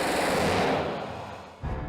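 Su-30SM aircraft cannon firing at a range target of firewood: a dense, loud continuous burst of rapid fire that rolls on and tapers before a second burst kicks in near the end.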